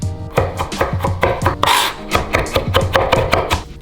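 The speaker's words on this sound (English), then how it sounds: "I'm just crushing some garlic." Garlic cloves being crushed and minced on a board for baechu kimchi, a quick series of loud, rhythmic knife strikes and rasping scrapes, close up with no talking.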